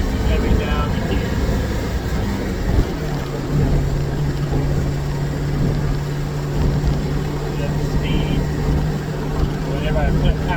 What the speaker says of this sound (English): Just recording audio for the sound of the motor.